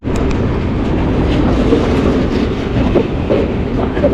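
KSR Bengaluru Intercity Express train crossing the bridge over the Bharathapuzha river, heard from on board as a loud, continuous rumble with faint clatter of wheels, close and steady, no speech.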